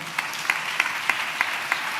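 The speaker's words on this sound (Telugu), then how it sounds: "చప్పట్లు కొడుతూ స్తోత్రాలు చెప్దాం" A church congregation claps in praise during a worship service, steady regular claps about three per second, moderately close and spread across the room, with no voices over them.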